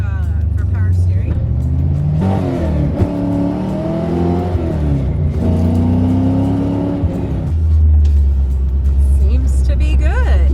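A 1989 Ford Mustang Fox Body with a 5.0 engine rumbles loudly from inside the car on a test drive after a power steering replacement, its engine rising and falling in pitch while a person talks over it.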